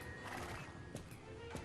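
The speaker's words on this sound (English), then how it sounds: "Let's gallop, because I'm confident that I can do this fine." Starter horse galloping in the Star Stable video game, steady hoofbeats and clip-clop with occasional whinnies over a continuous game soundtrack, fairly loud and close.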